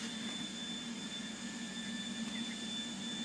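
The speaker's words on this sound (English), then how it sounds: "You can actually hear the engine." A distant airplane engine runs as a faint, steady whine with a constant hum and a high tone, unchanging throughout and with no talking.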